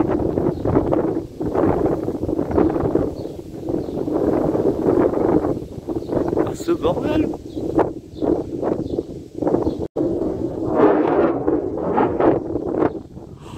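Strong gusty wind just before a morning thunderstorm near Grenoble in the Alps, roaring in repeated surges and buffeting the microphone, with a man briefly exclaiming partway through.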